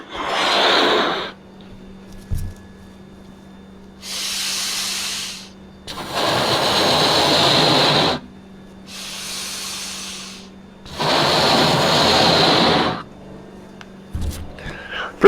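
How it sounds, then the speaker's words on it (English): Four long, strong breaths blown into a balloon by a person lying on their back with knees bent, each breath a broad rushing hiss lasting a second or two, separated by short pauses, close and loud. "I'm going to put some air into this balloon"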